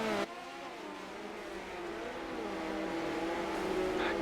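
Midget race cars roaring around a dirt oval at the Chili Bowl, a steady, dense engine drone with overlapping pitches that holds loud and continuous throughout.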